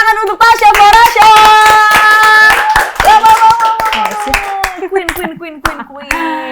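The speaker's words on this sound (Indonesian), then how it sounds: "kalau begitu tepuk tangan untuk Tasya Farasya" Sharp rhythmic hand claps ring out close up for an audience cheering Tasya Farasya, mixed with loud sustained tones, with the clapping continuing throughout.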